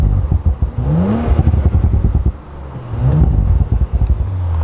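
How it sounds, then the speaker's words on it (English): Close, loud engine revving of a 2019 Audi RS 5 Sportback 2.9-litre turbo with a deep exhaust rumble, rising and falling twice, amid wind buffeting on the microphone. "Nice rumbling from the exhaust."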